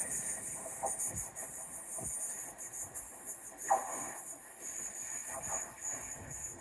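Train pulling away toward Penzance and passing under a bridge, heard as a faint hiss with soft rail clicks and rumbles that fade slowly into the distance, no one speaking.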